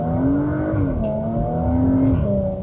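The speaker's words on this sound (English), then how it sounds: "an exhaust that pops and burbles from the factory and sounds good" A Porsche Macan GTS engine pulls steadily under acceleration, a loud close droning exhaust note with pitch rising and shifting between gears, a few faint crackles near the end and no voices.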